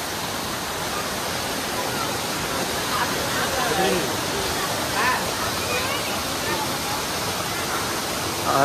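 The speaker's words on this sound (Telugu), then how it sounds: "ఇగో ఇదే ఆ వాటర్ ఫాల్" A waterfall beside a temple, a dense steady rush of falling water close by, continuous throughout with faint voices underneath.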